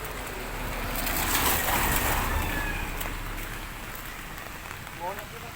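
Steady rain patters and hisses all around while someone walks outdoors to work, a constant wash of drops with faint background noise.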